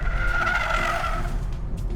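A 2020 Hyundai Verna braking hard on a slippery monsoon road, ABS kicking in while the tyres skid with a loud, sustained squealing hiss over road and engine rumble.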